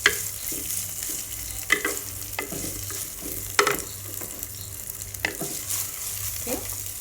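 Onions sizzle and fry in a pan as they caramelize, a soft continuous crackle broken by several sharper clinks and scrapes of stirring, close and fairly quiet with no talking.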